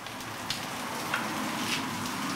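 Sausages and eggs fry in a pan for a full English breakfast, a steady close crackling sizzle with a few brighter spits and pops.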